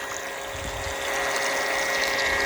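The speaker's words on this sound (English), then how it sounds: "water's flowing inside" Water rushes through a flap into a storage tank during a drought, a steady, fairly loud gushing flow with a constant tonal hum like a pump running underneath, no talk.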